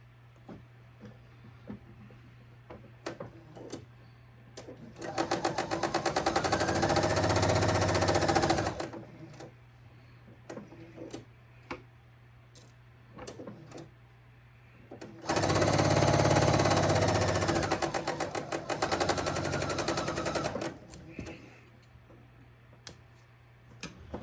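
Sewing machine stitching a quilt seam in two steady runs of several seconds each, a close, loud whirring chatter, with soft clicks and handling noises in the quiet gaps between.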